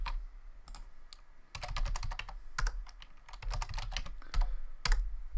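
Rapid computer keyboard typing of shortcuts in IntelliJ, a close, steady run of crisp key clicks with irregular bursts and brief pauses, heard alone without talk.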